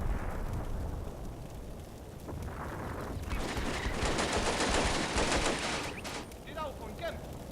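Sustained crackling gunfire and rumbling fire across a World War II battlefield in Combat Mission: Beyond Overlord, a dense, steady barrage that swells in the middle and then thins out.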